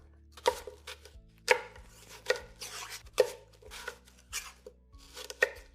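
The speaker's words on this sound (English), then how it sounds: "we're going to slice each one of those into an additional piece as well" An apple sliced into pieces with a knife, about six sharp, separate cuts landing on a board at an unhurried pace, close and clear against a quiet background with no voices.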